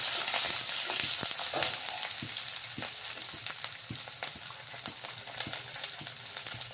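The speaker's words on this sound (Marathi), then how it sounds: "आता कांदा टाकत आहे आणि 5 ते 6 मिरच्या घेतलेल्या होत्या मी। मिरच्या पण टाकत आहे यामध्ये।" Chopped onion and green chillies fry in hot oil in a pan, a steady close sizzle with light scraping and stirring taps.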